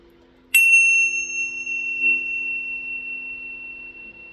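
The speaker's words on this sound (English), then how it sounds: "When I play the bells, you can just close your eyes and listen to the vibrations" A single bell strikes sharply and rings on with a long, clear sustained tone that fades very slowly, alone over a faint steady hum.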